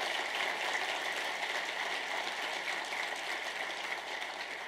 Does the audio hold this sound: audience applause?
yes